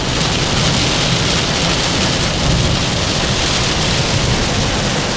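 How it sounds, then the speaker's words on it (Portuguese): Heavy rain pours down in Uruguay in a dense, loud, unbroken hiss, steady from start to finish with no voices. "Tá chovendo pra caramba!"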